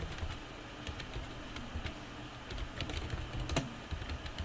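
Steady, rapid keystrokes on a computer keyboard as a folder name is typed, a continuous close clatter of clicks with no talking.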